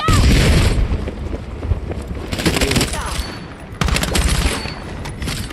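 In the Battlefield 6 video game, a frag grenade blast and heavy gunfire pound through a dense, loud battle mix, with booming impacts and rapid shots running almost unbroken throughout.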